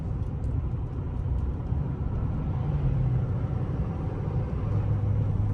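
An L5P Duramax diesel truck with its turbo resonator deleted rolls into the throttle in a high gear with the converter locked, giving a continuous low, droning engine rumble heard from inside the cab.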